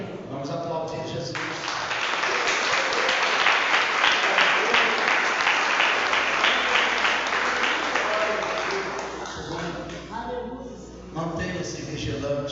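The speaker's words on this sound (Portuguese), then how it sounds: "Vamos aplaudir Jesus." An audience in a Portuguese-language church service breaks into sustained applause, a broad dense clapping that builds, holds for several seconds and then tapers off, with voices talking at the start and end.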